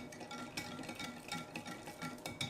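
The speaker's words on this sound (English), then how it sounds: "Looks like that little bit of pumpkin butter is going to give me some trouble, but I think if we just keep mixing it" Pumpkin butter being stirred into a pumpkin pie fat bomb mixture in a bowl, giving soft, steady scraping and stirring sounds with small clinks, close and continuous, no talking.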